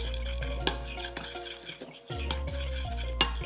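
A spice rub of cumin powder, chili powder and MSG mixed in a bowl, heard as close clinks and scrapes of a utensil against the bowl, with a strong low hum underneath and no voices.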